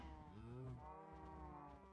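A cow in the video game Minecraft gives a low, drawn-out moo with a wavering pitch, heard alone and at moderate distance against faint background noise.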